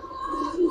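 Giribaz high-flyer pigeons give a brief, soft low coo that swells near the end, close by and alone against a faint steady background tone.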